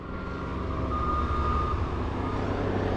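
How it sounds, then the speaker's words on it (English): A roll-off truck arrives with steady, loud reversing beeps repeating over its rumbling diesel engine close by, the tone sustained throughout without talk. "Here comes one of our upstream trucks."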